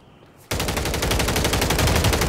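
Loud, rapid automatic gunfire from a video game firefight erupts suddenly after a quiet moment and continues in a dense, steady burst without pause.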